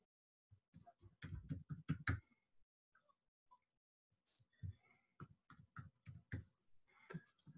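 Quick typing on a computer keyboard, close and fairly quiet, in two bursts of rapid clicks separated by a short pause with a few isolated taps.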